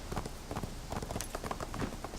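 A donkey mount in the online game ArcheAge trots with quick, even clip-clop hoofbeats, a continuous close rhythm of light thuds at a brisk pace.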